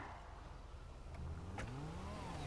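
A car driving in the video game GTA V, its engine droning steadily and rising in pitch as it accelerates, with a brief crash-like burst midway, loud and continuous throughout.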